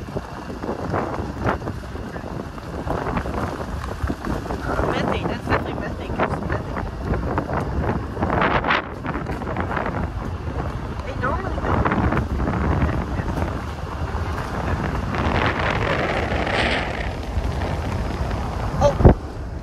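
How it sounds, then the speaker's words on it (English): Wind blowing during a storm, a steady roaring rush with gusting surges and buffeting across the whole stretch, while people talk faintly underneath. "The wind."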